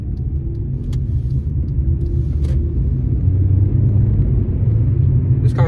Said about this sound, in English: This car's pretty fast.